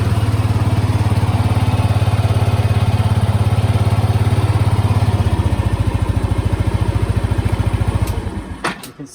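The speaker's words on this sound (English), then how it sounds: "You can hear that engine is really nice" Low-mileage Yamaha NMAX 125 scooter engine runs close by with a loud, even idle putter, its rhythm shifting partway through before winding down and cutting off with a few clunks at the end.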